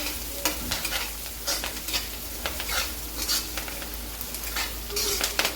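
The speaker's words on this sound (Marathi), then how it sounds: "हळद पण छान मिक्स करून घ्यायची पूर्ण फोडणीमध्ये" A spoon stirs turmeric through a sizzling tempering for poha. Steady frying hiss runs under repeated scraping and clinking strokes against the pan.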